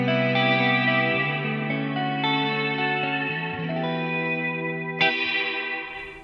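Sustained electric guitar chord through an Erica Synths Nightverb reverb pedal with damped treble, soaked in reverb with a softened top end, notes changing slowly and a brighter strum near the end.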